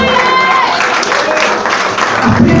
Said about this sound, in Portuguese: aplauda o nome do Senhor nessa noite